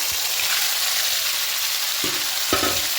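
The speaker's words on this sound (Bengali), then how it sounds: "এবার এখানে চিকেনটা দিয়ে দেবো এই ম্যারিনেট করা চিকেনটা দিয়ে দিলাম" Marinated chicken frying with fried onions in a pan for chicken keema pulao, a dense continuous sizzle with a few soft thuds of stirring near the end, close up, no talking.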